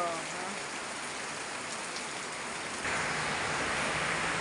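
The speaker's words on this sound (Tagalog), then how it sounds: "Sobrang lakas ng ulan." Heavy rain pours in a dense, steady hiss close by, growing slightly louder partway through, with no pause in the downpour.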